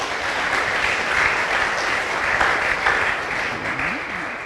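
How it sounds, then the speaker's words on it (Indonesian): A hall audience at a religious testimony gathering applauds in a thick, continuous wash of clapping, steady and fairly loud from start to finish without speech. "Kita tepuk tangan dulu saudara-saudara."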